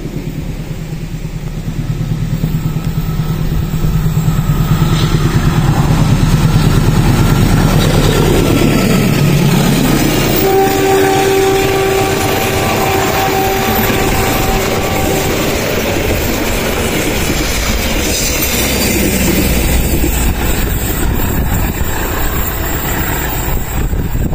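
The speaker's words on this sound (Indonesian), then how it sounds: "itu dia Logawa udah melintas di JPL 92" The Logawa passenger train rolls past level crossing JPL 92 near Tiber station, a loud continuous roar with rail clatter and a sustained horn-like tone partway through, heard close and without speech.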